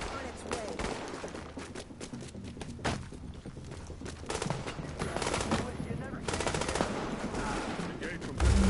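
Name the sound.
gunfire at patrol in video game The Division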